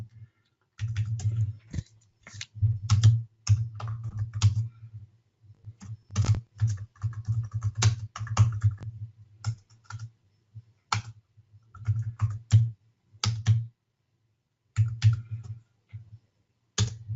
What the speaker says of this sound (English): I'm hitting the wrong keyboard